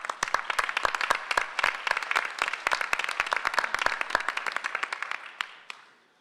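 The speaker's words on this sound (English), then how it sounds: "So you should give yourselves a round of applause because it was truly a total effort." Room audience at a St. Petersburg waterfront Urban Land Institute report presentation clapping for about five seconds, with sharp individual claps standing out from the steady wash before it thins to a few last claps and stops.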